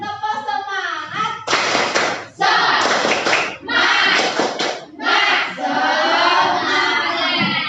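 Schoolchildren in a classroom perform a rhythmic clapping chant, bursts of group claps mixed with shouted voices in a loud, close, energetic pattern that pauses briefly between phrases.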